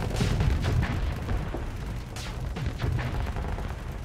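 Gunfire striking a ship during space combat in the game Starsector, a steady barrage of rapid impacts and booms with a few sharper hits, loud and continuous with no talking.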